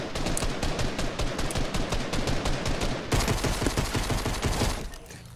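Gunfire in the video game Fortnite: dense, rapid automatic bursts, loud and close, with a brief shift in tone midway before the fire fades out at the end.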